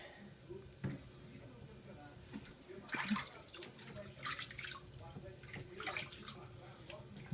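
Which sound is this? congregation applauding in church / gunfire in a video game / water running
water running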